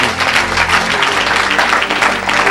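Church congregation breaks into loud, sustained applause for the Lord, a dense wash of many hands clapping close by with faint voices mixed in.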